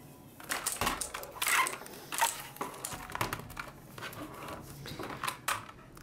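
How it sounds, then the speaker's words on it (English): Keys clack on a cheap E-Element K-9999 mechanical gaming keyboard, a close run of irregular clicks and taps with short pauses between bursts. "So this is what the keyboard sounds like."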